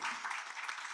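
An audience at a panel discussion on recycling applauds in a faint, dense, even patter of many hands lasting about a second.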